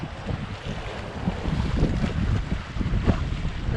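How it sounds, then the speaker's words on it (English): Wind-driven sea waves at Kamini harbour make a continuous broad rushing roar with gusty wind buffeting the microphone, rising and falling slightly with no voices. "This is about the only time of the year when you actually hear the sea. It's kind of pushed along by the wind."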